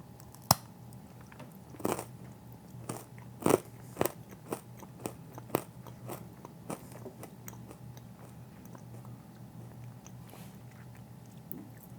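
Crisp bites and crunches of a salted dark-chocolate grain-free pretzel, a sharp snap followed by a string of smaller crackling chews, close to the mic, gradually tapering off.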